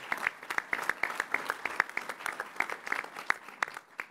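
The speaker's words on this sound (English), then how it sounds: "let's give her a round of applause" Applause at a governor's cabinet meeting in Rochester, a small room's worth of hands clapping in a sparse, distinct rhythm of individual claps, fairly close and moderately loud, with no talking over it.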